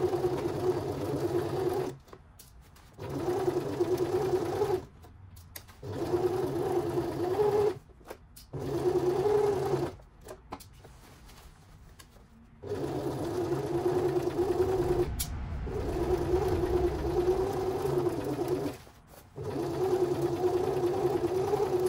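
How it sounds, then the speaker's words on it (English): A sewing machine stitches binding onto a dress bodice in a series of short runs, each a few seconds long and separated by brief pauses, with a steady mid-pitched whir. "So I'm now going to begin to sew the binding to the bodice."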